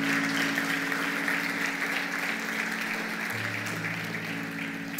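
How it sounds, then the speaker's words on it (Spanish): Congregation at a Sunday morning church worship service applauds in a dense, sustained roar of clapping, with a low organ or keyboard drone humming underneath. "Denle un aplauso al Señor en esta mañana de alabanza"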